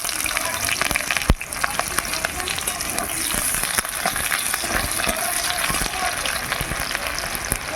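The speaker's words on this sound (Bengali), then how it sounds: "পেঁয়াজগুলো হালকা করে ভেজে নেব" Chopped onions fry in hot oil with panch phoron, a steady sizzle scattered with sharp crackles and pops, close by.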